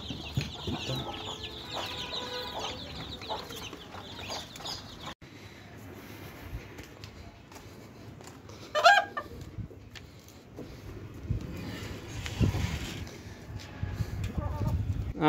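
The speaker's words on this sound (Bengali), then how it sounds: "আমার এখানে কিছু মুরগি দেখতেছেন, এর মধ্যে একটি লেয়ার মুরগি আছে।" Chickens, a layer hen among them, cluck softly in a farmyard, with scattered clucks and brief rustling or wing movement over quiet background noise.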